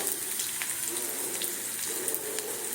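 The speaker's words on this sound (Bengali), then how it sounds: "পেঁয়াজটা দিয়ে একটু হালকা নাড়িয়ে নিচ্ছি" Chopped onion frying in a mix of butter and refined oil for an egg korma, a steady close sizzle with faint scraping from gentle stirring, no voices.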